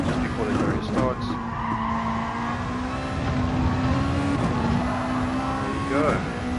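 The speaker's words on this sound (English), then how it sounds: "Nice tire squeal" A race car in Gran Turismo Sport squeals its tires through a corner at the Sardegna track, a sustained whining screech over the engine, with someone talking throughout.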